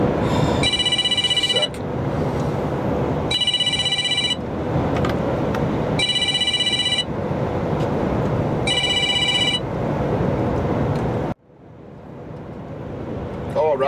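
An old-style telephone rings in four bursts of trilling bells over a constant loud engine drone inside an HGV lorry cab, then the ringing stops and the drone drops away.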